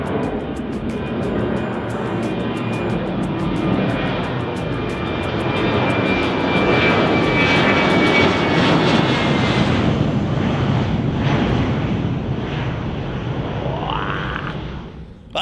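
A fixed-wing airplane takes off at an airport near a fish port in General Santos, Philippines, its engine roar loud and sustained, building and then fading away at the end.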